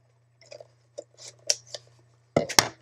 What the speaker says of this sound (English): Now I can safely take the scissors.